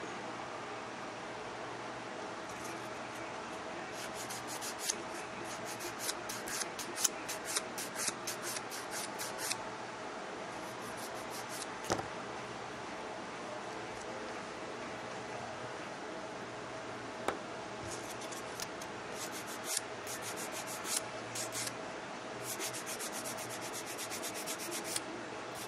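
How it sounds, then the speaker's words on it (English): Nail file rubbing across dip powder nails in rapid scratchy strokes, quiet and close, coming in bursts separated by short pauses. "you can hear me filing off camera."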